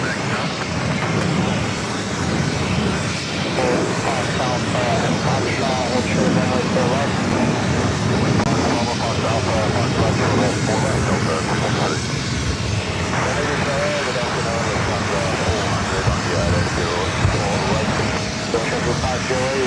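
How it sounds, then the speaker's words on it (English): American Airlines Boeing 737-800 in oneworld livery rolling down runway 4 left at JFK, a broad, steady jet roar heard from some distance for the full length, with faint voices underneath. "One World livery on an American 737-800 rolling down at 4 left"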